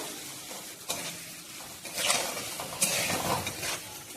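Tomato and grated coconut sautéing in a pan for a sweet chutney, a soft steady sizzle broken by a few scraping stirs of a spoon against the metal, close by and with no voices.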